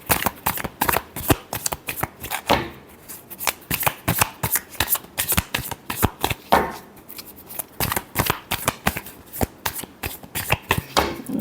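Tarot cards are shuffled by hand in quick, crisp bursts of riffling and slapping. Short pauses separate the flurries, which are close and distinct with no talking over them.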